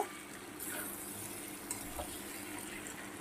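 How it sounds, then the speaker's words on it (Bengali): Crumbled fried egg and pointed gourd are stirred in a pan over a soft, continuous sizzle, with light scraping from the utensil. No voices are heard. "ডিমটা দিয়ে একটু নাড়াচাড়া করে নেব"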